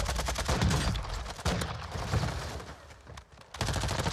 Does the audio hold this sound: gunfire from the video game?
yes